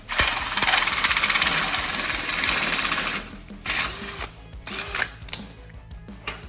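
A power drill grinds and rattles loudly into metal for a few seconds, drilling holes for bump stop mounts, then stops and restarts in short bursts with faint clicks.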